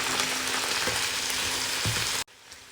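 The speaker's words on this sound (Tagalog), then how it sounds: "Lagyan natin ng konting sabaw ng ating nilagang munggo" Sautéing vegetables with eggplant and long beans sizzle loudly and steadily in a pan as a splash of mung bean broth hits them, with a brief stirring clatter near the end before the sizzle cuts off abruptly.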